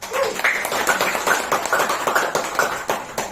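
A small group at a training session claps hands in a quick, uneven burst, individual claps audible and close, with a few faint voices mixed in.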